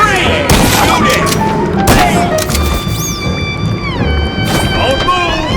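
Gunfire erupts in the video game MOUSE: P.I. For Hire, several loud, sharp shots with booming tails over a busy game soundtrack with musical tones and sliding effects.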